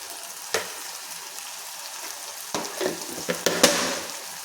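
Brinjal curry sizzling in a hot pan, a steady crackling fry broken by a few sharp bursts as the pan is tossed by hand to turn the curry, with no talking.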